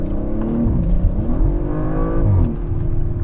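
A 2021 Audi RS5 accelerates through a roundabout, its engine rising and falling in pitch with loud, close revving and no voices.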